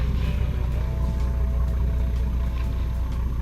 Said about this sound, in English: That's the sound of a pair of Volvo 370 diesels.